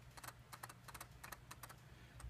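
Iris switch on a Sony FS5 camera being clicked repeatedly: a quick series of small, close, sharp clicks over about two seconds, quiet and alone against faint background hum.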